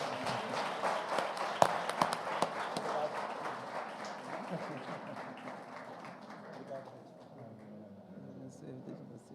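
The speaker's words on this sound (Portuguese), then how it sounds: "Se assim você concorda, aplaude Jesus, queridos." Church congregation applauding during a Sunday celebration service, a burst of many hands clapping that gradually thins and fades, heard somewhat distant with voices mixed in.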